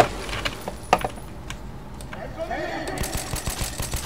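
Sharp, scattered gunshot-like bursts pop over a busy Metro 2033 Redux game soundscape, with a rapid run of clicky shots toward the end and a voice in the background.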